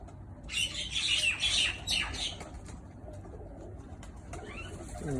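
Pigeons coo and squawk close by in a burst of calls, followed by softer fluttering and scattered bird sounds over a low background hum.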